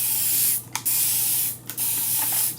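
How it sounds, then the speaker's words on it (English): A handheld beauty-supply sprayer misting water onto chalk art, long continuous hissing bursts with two brief pauses between them, close and clear, no talk. "let me start squirting it with water"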